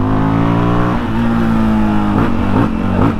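A Yamaha Ténéré 700 twin-cylinder motorcycle engine runs close by, a loud steady drone with rising and falling rev swells toward the end, and no talking over it.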